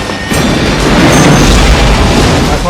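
A loud, rumbling explosion with a heavy low roar and crackling debris fills the scene from the 1997 movie Con Air, sustained and close with no talking.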